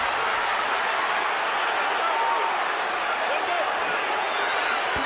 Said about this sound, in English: Crowd rocking and rolling